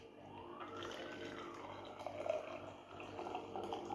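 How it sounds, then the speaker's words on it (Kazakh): A thin stream of water pours into a vessel, its pitch rising slightly as it fills; quiet, close, and steady. "Содан кейін міндетті түрде қайнаған суды құясыздар."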